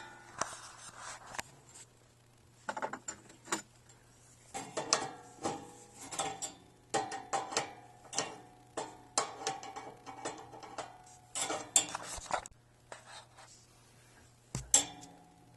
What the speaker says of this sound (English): it's time to screw this guy back in up here. Grab my wrench.